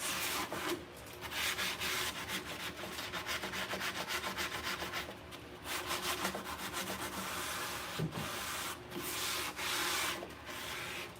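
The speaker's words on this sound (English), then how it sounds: "Sand the top, sand the sides." A sanding sponge rubs back and forth over painted wood, a steady close abrasive scratching that runs continuously for about eleven seconds with brief dips between strokes and no talking.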